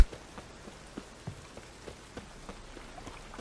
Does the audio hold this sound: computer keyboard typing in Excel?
no